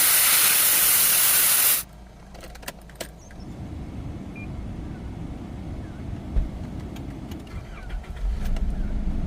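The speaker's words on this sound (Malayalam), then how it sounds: "എയർ കുറയ്ക്കുവാണ് കേട്ടോ" Air hissing out of a car tyre as it is let down with a valve key on an outback road trip: a loud steady hiss that cuts off abruptly, followed by quieter rustling, clicks and low background rumble.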